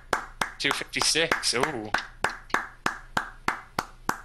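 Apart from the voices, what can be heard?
hands clapping for a clapping game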